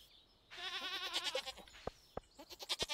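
A video-game goat in Stardew Valley Expanded gives a wavering, vibrato bleat, followed by a few sharp clicks and short tonal game sound effects.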